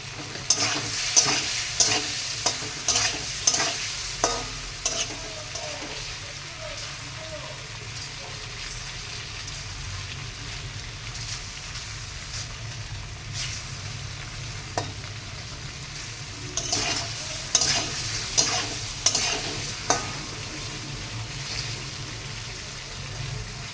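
Cauliflower and paneer frying in butter in a pan while being stirred, a continuous sizzle broken by bursts of sharp scraping and clattering spoon strokes, quieter in the middle before the stirring picks up again.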